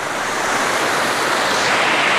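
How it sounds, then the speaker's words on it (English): A waterfall at Lake Vyrnwy produces a loud, steady, broadband rush of falling water that stays constant throughout, with no voices. "Beautiful waterfall."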